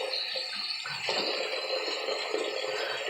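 Hot water runs from a tap in a steady, close splashing stream, with a brief clunk or shift in the flow about a second in, no voices present.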